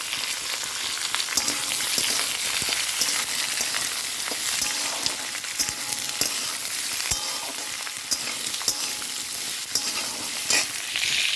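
Beans, radish, potato and dried chillies fry in a pan with a steady bright sizzle, punctuated throughout by sharp scraping clicks of stirring, with no talking.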